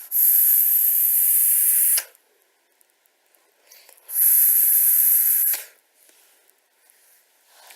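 Two long, loud, steady hissing draws through a dripper atomizer with a Pegasus and Magma clone producing dense hot vapor, each about two seconds, separated by near silence with faint soft exhales.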